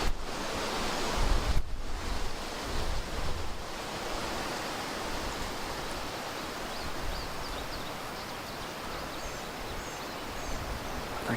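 Strong wind roars steadily through Kentucky woods in spring, a dense broadband rush with gusts and buffeting on the microphone, loud and continuous with no voices.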